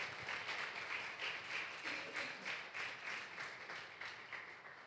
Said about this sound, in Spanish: Dale un aplauso fuerte a Dios.